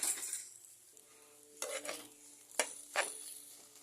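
A spoon scrapes and clinks against a pan while gochujang is stirred into food, producing a few sharp metallic knocks over a faint sizzle and a quiet background hum.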